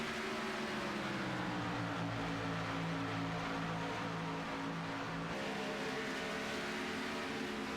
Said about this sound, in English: We have a few more cars breaking from pit road.